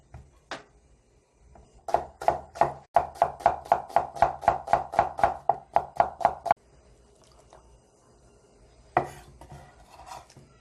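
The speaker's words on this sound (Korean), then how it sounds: "양파 굵은 걸로 하나 착착 채 썰어주세요" A knife slices a large onion quickly and evenly on a cutting board, a rapid run of about fifteen crisp strokes, then a pause and a few isolated knocks.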